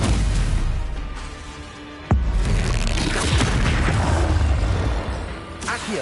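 Fire spell blasts in the Hogwarts Legacy video game, with a sharp booming burst cutting in after a quieter stretch, followed by dense crackling impacts and a second pop near the end.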